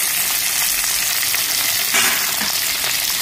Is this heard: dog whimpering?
no